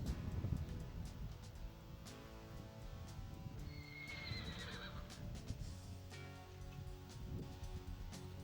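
Rocky Mountain horse colt being ponied behind another horse, giving a clear whinny among steady hoof clip-clop and rustling movement, moderately close.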